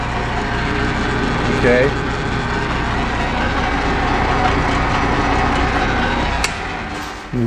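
A machine runs at 240 RPM with a steady, loud, low mechanical drone and a faint whine, constant throughout, while a voice briefly speaks over it.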